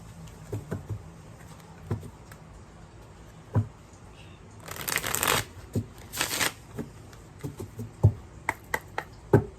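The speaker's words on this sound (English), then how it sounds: "let me get an archetype card" A deck of archetype cards is shuffled by hand for a card reading: soft taps and snaps, then two bursts of riffling, close and clear, with no talking.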